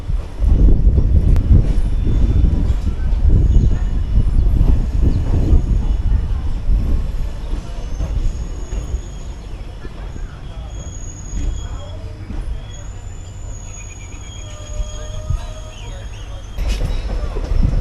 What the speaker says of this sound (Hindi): ट्रेन जो है अब सिर्फ सिंगल लाइन पे जा रही है